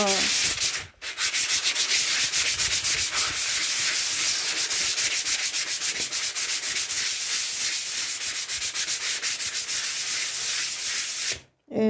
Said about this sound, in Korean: 마무리 코팅하기 전에 사포 작업으로 면을 한번 다듬어 줄게요